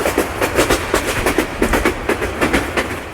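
Burimari Express passenger train running along its track, a steady rhythmic clickety-clack of wheels over rail joints repeating every half second or so, loud and close with a continuous rumble underneath.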